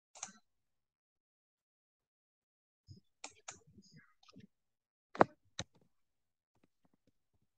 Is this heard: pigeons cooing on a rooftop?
no